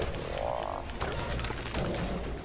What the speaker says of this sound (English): And we've got an angry frog on our tails.